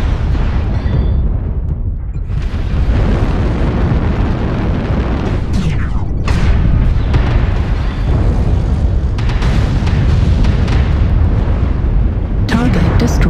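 A destroyed mech blows up in MechWarrior Online on the Tourmaline Desert map, a heavy rumbling boom within a dense, continuous roar of battle noise and weapon fire, loud and close throughout.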